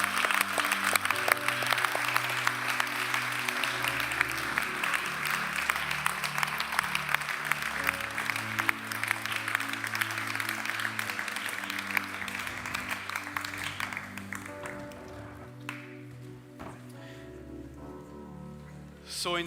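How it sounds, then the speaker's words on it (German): Warm applause from a church congregation at a Sunday morning service, sustained dense clapping over soft music that thins out and fades near the end. "lasst uns den einen herzlichen Applaus geben"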